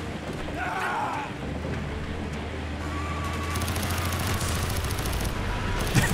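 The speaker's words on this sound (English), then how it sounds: "This gun shoots so fast." A fast-firing gun rattles in rapid bursts during Call of Duty Black Ops gameplay, the shots close and continuous over a steady noisy battlefield background.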